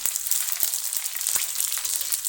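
Puris for pani puri fry in hot oil in a kadai, a continuous bright crackling sizzle with a few sharp pops, close and loud, with no voices.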